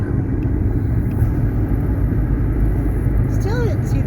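Car driving down a road through small-town Rogersville, Missouri, with a steady loud rumble of engine and tire noise from inside the cabin, continuous throughout, plus a brief chirp near the end.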